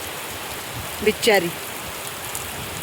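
Steady rain falls on an open farm field, a constant close hiss throughout, with a brief voice cutting in partway through.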